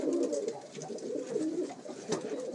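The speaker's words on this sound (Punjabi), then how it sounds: "ਵੱਡਾ ਕਬੂਤਰ ਹੈ ਜੀ ਇਹ" A large purebred pigeon cooing close by, a few soft, low, throaty coos repeating in gentle waves over a quiet background.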